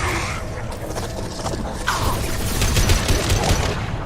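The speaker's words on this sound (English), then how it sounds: "This assault rifle is badass. It's single shot." An assault rifle firing single accurate shots in Mass Effect 2 Legendary Edition cracks amid dense, loud combat noise, with repeated reports layered over a rumbling battle background.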